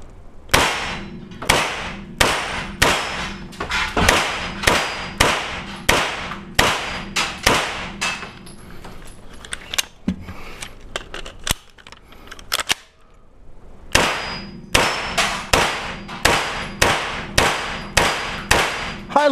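A pistol fitted with a red dot sight fires sharp, loud gunshots in quick, regular succession at a shooting range in the Czech Republic, with a short pause midway before the rapid volley resumes.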